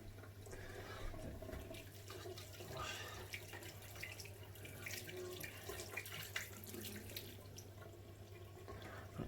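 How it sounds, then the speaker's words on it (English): Water runs steadily from a bathroom tap into a sink while shaving foam is rinsed off fingers, a continuous close splashing stream with a low steady hum underneath. "So just wash the excess foam off the fingers."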